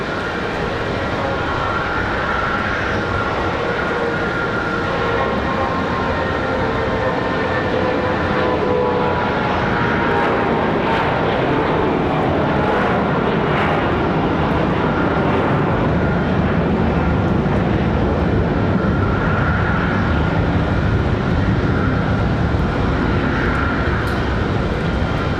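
An airliner takes off from Raleigh-Durham International Airport on a snowy day, a long, steady, loud jet-engine roar that rumbles on for the whole stretch with faint tonal whines and no talking.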